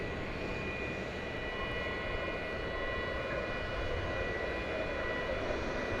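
An American Airlines jet takes off at DFW Airport, a steady broadband engine roar that stays loud and even throughout with no voices.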